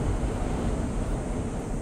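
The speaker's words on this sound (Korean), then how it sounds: "바람 소리 들리냐?" Strong wind rushes around a cable car at Geoje, a loud, continuous roar that buffets the microphone for the whole moment.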